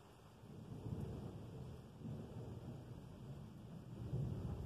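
Outer edge of a thunderstorm rumbles low and faint, a distant continuous roll of thunder with a soft rain-like hiss, swelling slightly toward the end.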